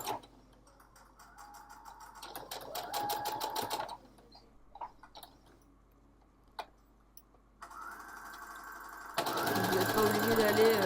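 Domestic sewing machine stitching fabric over pins in bursts: a brief run, a pause with faint clicks, then two longer stitching passes, the last loudest, close and clear.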